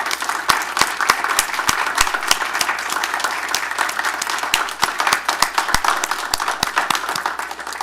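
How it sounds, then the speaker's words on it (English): A council meeting audience applauds new hires with sparse, distinct hand claps of moderate loudness, individual sharp claps spaced irregularly over a steady room hum. "Could you all please stand and we can give you some applause?"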